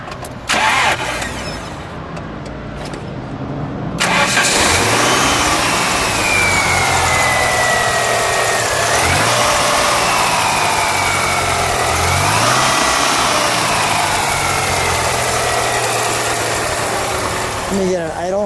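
A red 1991 Dodge Daytona Shelby with a turbocharged four-cylinder cranks for a few seconds, catches, and settles into a loud, steady idle heard up close.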